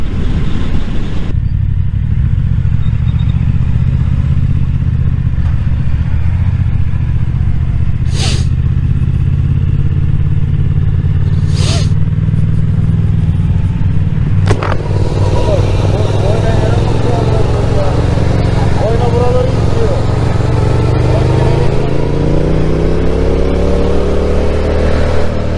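Motorcycles on a group ride, one a new Suzuki, rumble loudly at close range with engine revs rising and falling, while people talk over the noise throughout.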